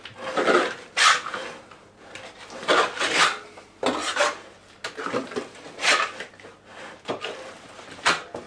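A trowel spreads plaster across a wall in repeated rasping, scraping strokes, close and fairly loud, each sweep a distinct rough swipe in an uneven rhythm with short pauses between.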